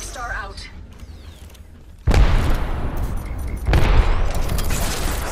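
Heavy gunfire and booming impacts in Apex Legends ranked play, with two sudden loud bursts of firing that continue as a dense clatter.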